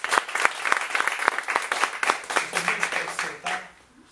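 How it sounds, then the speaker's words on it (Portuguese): A church congregation claps steadily during a worship service, a dense, lively round of applause with distinct hand claps that continues for several seconds before fading out. "Dá uma salva de palmas para ele"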